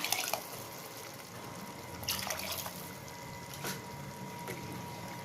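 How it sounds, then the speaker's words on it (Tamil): Water is poured into a simmering Tamil fish gravy with tamarind, making soft, close trickling and splashing sounds over a low background, with a few brief louder splashes. "இன்னும் கொஞ்சம் தண்ணி ஊற்றுறேன்."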